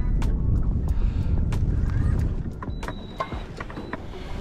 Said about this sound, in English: That way that wind's pushing us.